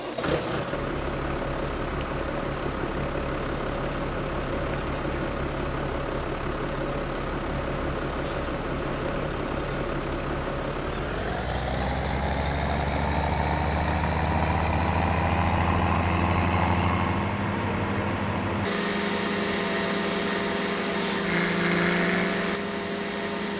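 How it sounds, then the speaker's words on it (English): A tractor engine in Farming Simulator 17 idles with a steady drone, then revs up into a louder, higher, sustained hum as the machine gets moving, with no talk over it. "if we jump into this tractor, I'll take you over to the field where we actually are doing the grass"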